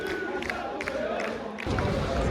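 Away football fans chant and roar together inside a packed stadium at Leicester versus Plymouth, a dense, loud crowd noise that swells louder near the end.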